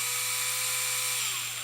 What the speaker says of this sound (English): I've got the Tamiya handy drill